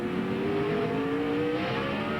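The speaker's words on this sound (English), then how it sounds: "you might be able to hear the engine when he stands on it" A race car engine at The Winston race in 2001 revs hard, its pitch climbing steadily in a loud, continuous mechanical whine, rear tires spinning.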